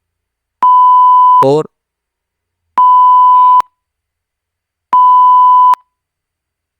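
Three loud, evenly spaced electronic beeps, each close to a second long, from a Python countdown timer program finishing its run, with a brief burst of talk just after the first beep.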